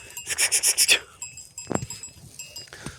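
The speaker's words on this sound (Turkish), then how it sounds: "Şu an koyunlarımız güzel bir şekilde otlanıyor." Sheep graze outdoors in light snowfall and freezing weather, bleating and shuffling close by, with a rhythmic series of bright metallic bell-like clanks at the start, then quieter scattered noises.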